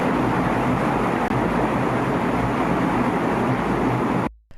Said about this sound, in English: That is the sound of the Lake Coleridge power plant,